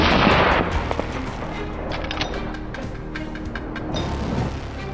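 Gunfire in an open field during a wild boar hunt, a loud sharp report at the start followed by a decaying rumble and scattered clicks and knocks, with another burst near the end.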